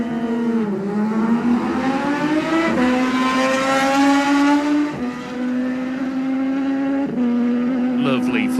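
Superbike motorcycles at the Classic TT 2019 race, including a Suzuki, with a loud sustained engine whine rising through gears as machines pass, shifting pitch at each gear change, heard under a commentator's voice.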